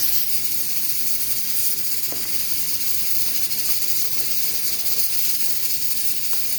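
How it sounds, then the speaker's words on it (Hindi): Pressure cooker steadily hissing while mutton paya cooks, a continuous broadband steam hiss held at an even level throughout with faint clicks and no talk. "तो सब हमारा कुकर चल रहा है।"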